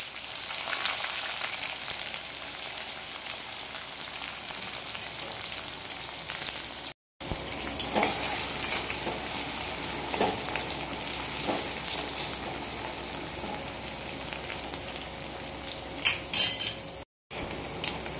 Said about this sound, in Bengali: কুচিয়ে রাখা পেঁয়াজ দিচ্ছি,